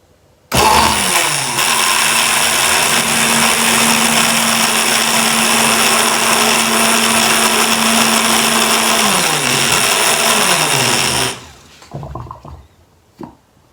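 Electric mixer blending ingredients for a homemade skin cream, a loud, steady high whir running for about eleven seconds before spinning down, followed by a few faint clicks.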